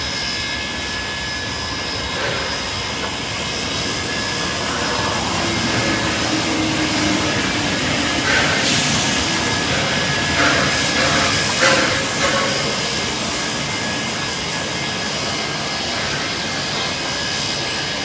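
Steam train standing at Sydenham station gives off a loud, continuous hiss, broadband and steady throughout with slight swells midway and no voices.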